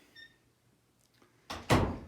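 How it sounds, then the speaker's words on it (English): A door is opened with a faint click followed by a louder thunk and a short rushing scrape, close by and with no talking. "Now here's that door"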